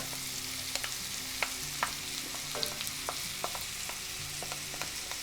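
Shallots and mushrooms sauté in oil in a pan with a steady low sizzle, while a utensil scrapes and taps the pan at irregular intervals, heard up close with no talking.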